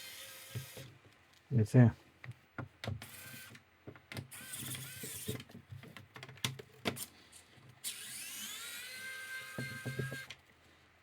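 A Xiaomi electric precision screwdriver drives small screws in short whirring bursts with clicks and handling noises, and a person speaks briefly over it.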